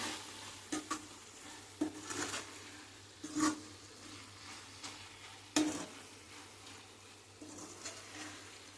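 Ridge gourd and dried prawn curry with fresh coriander stirred in a pan: intermittent scraping strokes of a spoon against the pan over a soft, low sizzle, fairly quiet and close.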